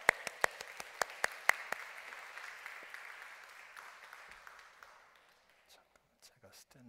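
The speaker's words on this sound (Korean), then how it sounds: "우리 선교사님 박수로 한 번 더 환영하겠습니다" A congregation claps to welcome a missionary, with several sharp nearby claps over a softer spread of applause that gradually dies away into near silence.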